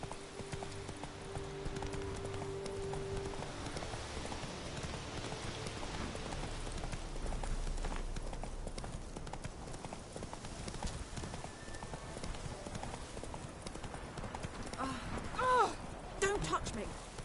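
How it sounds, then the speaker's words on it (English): A horse gallops in The Witcher III: Wild Hunt, steady clip-clop hoofbeats running on with ambient game sound and a brief line of speech near the end. "Run, Roach"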